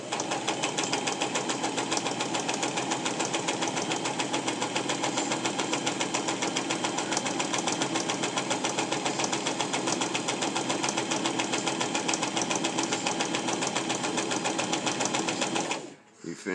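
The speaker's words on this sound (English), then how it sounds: "Put our foot down, start sewing." A sewing machine stitches a fabric mask in one long, even, motor-like hum with a fast needle rhythm, running close and continuous for about sixteen seconds before stopping abruptly.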